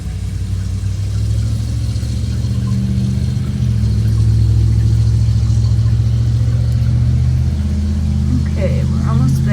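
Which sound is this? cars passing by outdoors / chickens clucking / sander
cars passing by outdoors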